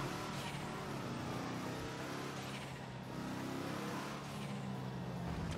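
A Deluxo flying car in GTA 5 Online drives in steady engine drone, a continuous close roar with a slight swell near the end and no talking.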